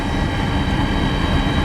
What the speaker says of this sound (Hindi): 2 हेलीकॉप्टर्स ये साथ साथ चल रहे हैं। दोनों भारतीय वायुसेना के हेलीकॉप्टर्स हैं।